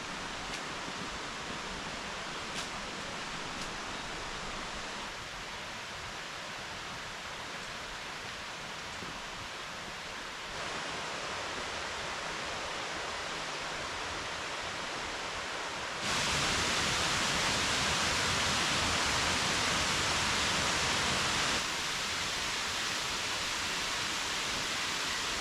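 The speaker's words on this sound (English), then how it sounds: "But I can hear the waterfall, or at least I can hear water" Continuous hiss of rushing water from a waterfall in Thailand, a dense broadband wash that grows louder in steps as if drawing nearer, with no voices.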